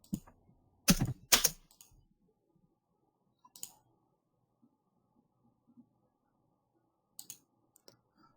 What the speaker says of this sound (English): someone just heard some typing